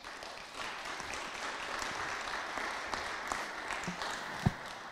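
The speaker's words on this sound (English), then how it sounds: "please give yourselves a round of applause for that" An audience claps for itself at a resolution presentation in Guam. The applause is steady and moderate for the whole stretch, with one sharper clap or knock near the end.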